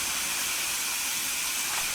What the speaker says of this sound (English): Bags of steam coming up.